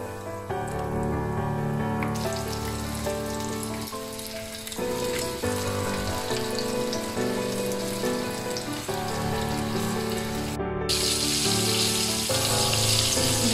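Popcorn chicken pieces coated in wheat flour fry in hot oil, a continuous crackling sizzle running under steady background music.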